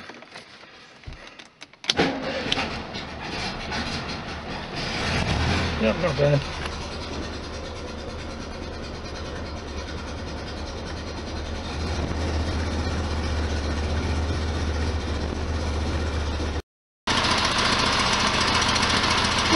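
An air-cooled 1973 Volkswagen Super Beetle engine cranks, catches and settles into a loud, rough, steady idle, close by, with a brief dropout and a short spoken comment.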